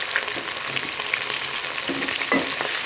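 Two medium finely chopped onions frying in ghee until lightly golden: a steady close sizzle throughout, with a few soft stirring scrapes and no voices.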